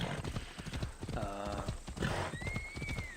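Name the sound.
horse hooves while riding in video game Assassin's Creed Odyssey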